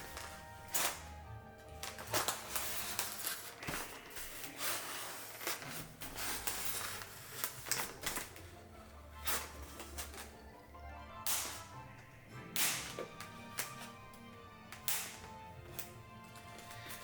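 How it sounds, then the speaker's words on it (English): A box cutter slices open the packing tape on a box holding an Iron Studios 1/10 scale statue, giving a run of sharp, crackling rips and taps over about seventeen seconds with no talking. "You're getting a box cutter, and let's cut open this tape."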